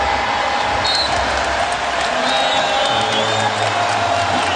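Crowd in a basketball arena at an NBA playoff Game 7 between the San Antonio Spurs and New Orleans Hornets, roaring and whooping continuously at full volume after a three-pointer, with a dense, sustained wall of cheering.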